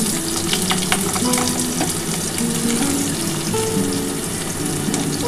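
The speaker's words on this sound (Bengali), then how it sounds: "প্রথমে কিন্তু আমি আলুটা দিয়ে দিচ্ছি" Potatoes fry in a pan in a steady, loud sizzle with faint scraping from stirring, no voices.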